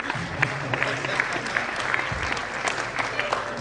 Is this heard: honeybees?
no